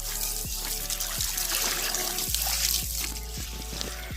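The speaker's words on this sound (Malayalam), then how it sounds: "അപ്പോൾ ഇതിന് നല്ല ശക്തിയായിട്ടുള്ള വെള്ളം വരും" Fast-flowing water runs steadily to fill a bath for ducks, a continuous close rushing and trickling with occasional low knocks, no one speaking.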